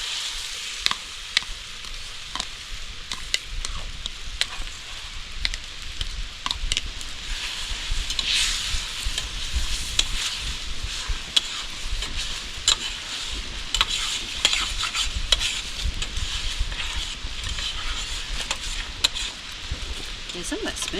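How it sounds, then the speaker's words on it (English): Spinach and a tortilla fry in a pan on a portable wood stove, some spinach scorching, making a steady close sizzle broken by frequent stirring clicks and scrapes over about twenty seconds, with a voice now and then. "some of that spinach started to get kind of burned"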